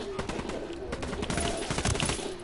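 Gunfire in the tactical shooter Ghost Recon: rapid bursts of rifle and machine-gun shots crackling continuously at moderate loudness, with voices calling out in the mix.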